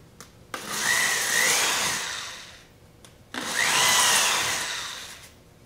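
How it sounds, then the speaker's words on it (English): A power drill drills holes in wood in two separate bursts of about two seconds each, its motor pitch rising and falling, with short quiet gaps between. "first I'm going to just drill some holes in here"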